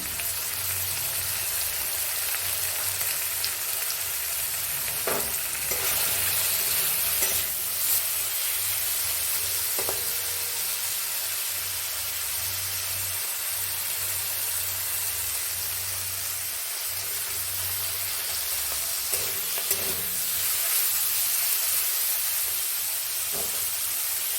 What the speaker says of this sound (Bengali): এবার আমার মশলাটা কষা হয়ে গেছে